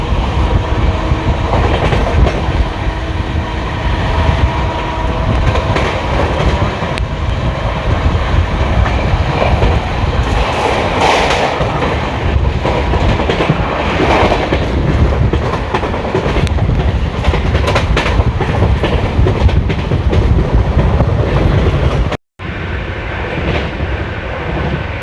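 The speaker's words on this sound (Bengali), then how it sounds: "দুরন্ত এক্সপ্রেস ফ্ল্যাট একদম 130 km এসে যাচ্ছে।" Howrah–New Delhi Duronto Express, an LHB-coach train running flat out at 130 km/h, roars steadily with continuous rolling wheel rumble and clickety-clack rhythm, loud and close, with a brief dropout near the end.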